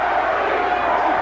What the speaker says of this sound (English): The crowd picks up the chant for Terry Norris, yelling, Terry, Terry.